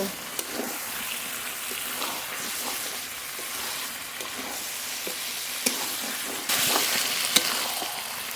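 Fried potatoes are stirred into a sizzling curry, giving a continuous soft hiss and bubbling with faint spoon knocks, close by; it grows slightly louder near the end.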